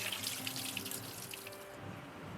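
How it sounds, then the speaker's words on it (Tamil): Running kitchen tap water splashes steadily into a sink while a cup and a rod are rinsed, a close, continuous hissing flow with small splashes and no talking. "இதை வந்து நம்ம வாஷ் பண்ணிக்கலாம் தண்ணியில்."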